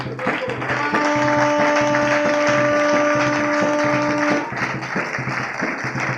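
A church congregation applauding: dense, steady clapping with sustained tones ringing over it for several seconds, then the clapping thins out toward the end.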